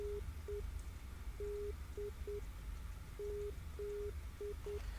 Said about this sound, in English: I hope you can hear that. Is the Papa Delta Zulu Morse code?